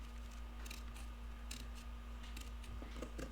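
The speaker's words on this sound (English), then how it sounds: "You're just going to take your scissors, cut all the way" Several crisp snips of scissors cutting paper in quick succession, close up, over a steady low hum, with no talking.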